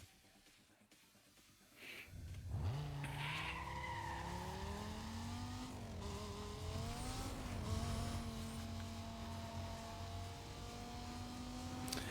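A Porsche in the 2005 racing game NFS Most Wanted drives hard, with a steady loud engine drone under rising and falling tire skids and squeals, sustained throughout without any talk.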